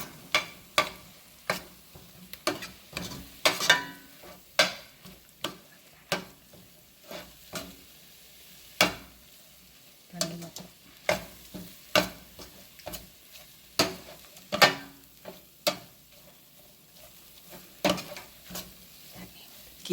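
A spatula scrapes and stirs in a pan about once a second, over a soft sizzle, as spices, coriander powder and green chillies sauté for a mackerel curry.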